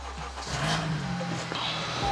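A secondhand 2020 Honda CR-V 4x4 fitted with an aftermarket racing exhaust revs, its engine swelling to a steady, moderately loud drone nearby, with someone talking over it.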